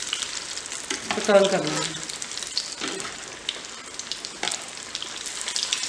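Farali pattice rolls sizzle and crackle steadily in hot oil in a pan over low gas, with a brief spoken remark part way through.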